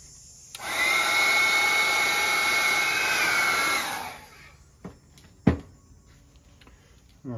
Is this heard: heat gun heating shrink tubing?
yes